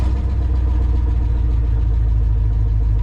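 A 1984 Ford F-150 engine idles steadily up close after an oil pump job, a dense low rumble holding an even, unbroken loudness for the whole stretch with no voices over it.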